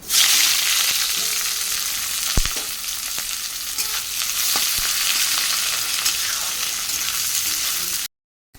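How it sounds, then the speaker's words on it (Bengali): Onions fry in hot oil with a loud, dense, continuous sizzle up close, dotted with occasional sharp crackles before the sound cuts off abruptly. "তেল গরম হয়ে গেছে, পেঁয়াজগুলো দিয়ে দিই।"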